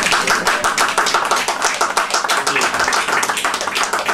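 Audience applause indoors, close and loud, a dense run of many hands clapping steadily with no pauses.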